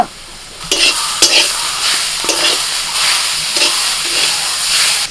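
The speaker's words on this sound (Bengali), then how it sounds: "শাকগুলো ভালো করে নাড়াচাড়া করে নিচ্ছি" Greens frying in a pan are stirred with a spatula, giving repeated scraping clatters over a steady loud sizzle, with no talking.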